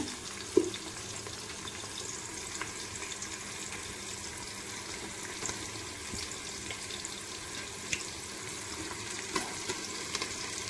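Chicken pieces frying in a pot for Hyderabadi chicken dum biryani, a soft, steady sizzle with faint stirring and occasional light knocks, fairly quiet throughout.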